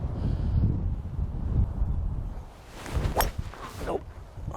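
Gusty wind buffets the microphone on an open desert golf course, a steady low rumble that swells and eases, with faint rustling and light movement near the end.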